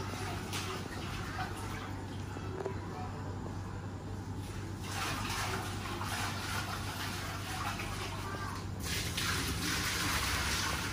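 Water splashing and pouring while a clay matka pot is rinsed, a steady wet wash running continuously with a low hum underneath, fairly quiet and alone without talk.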